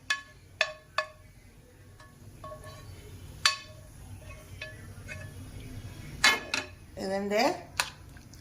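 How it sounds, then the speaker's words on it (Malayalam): A metal ladle mashing tomatoes and garlic in a pot, giving sharp scattered clinks and knocks against the pot, a few isolated taps early then a cluster of scraping, clattering strokes near the end. "അപ്പം നമ്മൾ തക്കാളിയും വെളുത്തുള്ളിയും എല്ലാം കൂടി ഇങ്ങനെ നല്ലവണ്ണം തവി വെച്ച് ഉടച്ചെടുക്കും"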